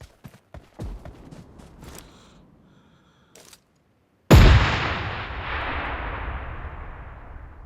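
Gunfire in the mobile battle royale game PUBG Mobile: a few sharp distant cracks and thumps, then after a silent gap one loud heavy blast whose roar decays slowly over several seconds.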